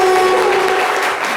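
Studio audience applauding a guest on a French talk show, a dense, steady wash of clapping that stays loud throughout with no voices over it.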